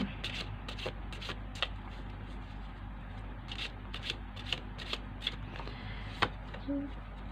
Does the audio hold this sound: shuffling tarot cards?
yes